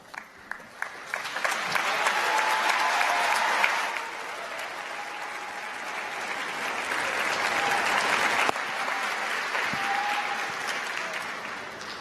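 A graduation audience at a School of Public Health ceremony breaks into loud, sustained applause with cheering and whistles, a dense roar that swells, dips briefly and rises again for several seconds.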